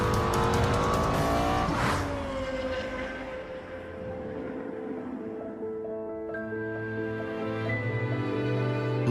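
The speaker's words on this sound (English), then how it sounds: "Highest revving V10 engine in a production car." The Lexus LFA's high-revving V10, a production car capable of 325 km/h, wails loudly as it climbs and falls through the revs, the tone rising, dropping and rising again in a sustained, screaming pass.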